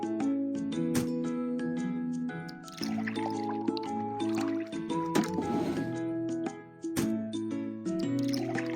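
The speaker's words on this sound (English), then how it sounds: "Pour liquid into the correct tank." Cartoon liquid pouring into a car's tank in a children's car repair game, a bubbly, squishy fill sound playing over steady, bright game music.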